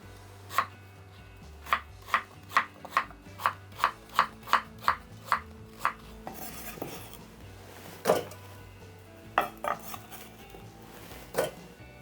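A knife works through a large 750 g pear on a cutting board: a quick, even run of about a dozen sharp, close knocks, then a pause and a few scattered strikes with faint scraping between them.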